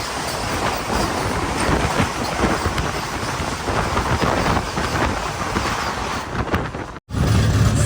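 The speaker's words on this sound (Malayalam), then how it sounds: "വാപ്പി റെയിൽവേ സ്റ്റേഷനിലേക്ക് ഇതേ നമ്മുടെ ട്രെയിൻ എത്തിക്കൊണ്ടിരിക്കുക" The Jamnagar–Tirunelveli Express rolls into Vapi railway station with a loud, steady rumble of wheels and carriages close by, then a brief dropout near the end.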